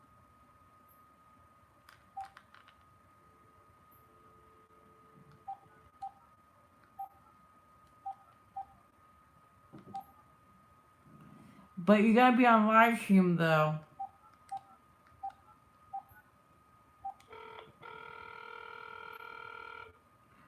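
A phone call is placed during a live stream: evenly spaced soft keypad-like ticks, a burst of voice, more ticks, then a sustained ringing tone near the end. Someone speaks briefly.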